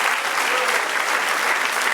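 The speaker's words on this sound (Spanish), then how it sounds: "Dame un aplauso, Señor, ahora." A church congregation applauds loudly and continuously, a dense, even wash of clapping from many hands.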